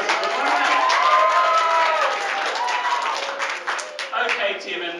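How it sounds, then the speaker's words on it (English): Audience applause at an event in Hikurangi, a steady wash of clapping from a crowd that fades slightly near the end, with voices heard over it. "Give her a round of applause"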